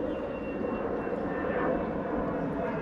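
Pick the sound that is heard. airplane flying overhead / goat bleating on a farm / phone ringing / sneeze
airplane flying overhead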